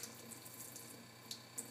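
Water running from a kitchen tap into a small amount of sugar or honey to make a syrup, a steady, faint splashing stream with a couple of brief spatters near the end.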